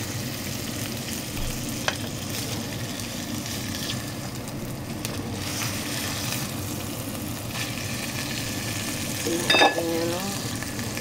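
Roast pork browns in a frying pan, a steady close sizzle with light stirring and a brief clatter near the end.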